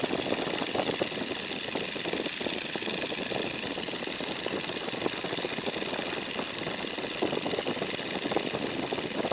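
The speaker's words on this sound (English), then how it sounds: "You're going about 85. That's the sound for 85" A 1942 Boeing Stearman biplane's radial engine drones steadily in flight at about 85 mph, a loud, dense, constant roar with wind noise throughout and no talk.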